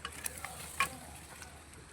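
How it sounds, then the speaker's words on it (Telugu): Chicken is stirred through yogurt masala in a frying pan, giving a faint steady sizzle broken by a few light scraping taps. "చికెన్ వేసుకొని చికెన్ కలుపుతున్నాం."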